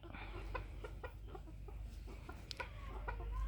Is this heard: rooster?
yes